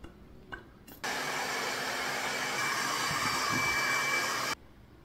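A hair dryer switches on abruptly and blows with a steady, loud rushing whir for a few seconds, then cuts off cleanly.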